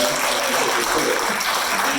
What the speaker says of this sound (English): Give Derek another round of applause for that